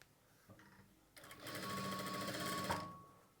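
Sewing machine stitching piping onto tightly pulled cloth, starting up after a few soft handling sounds and running steadily at close range for over a second before stopping.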